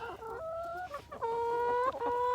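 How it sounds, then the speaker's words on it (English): A farm chicken clucks in a run of rising, tonal calls, close and clear with no talking, amid an outdoor farmyard setting. "We got June the sheep and June the chicken"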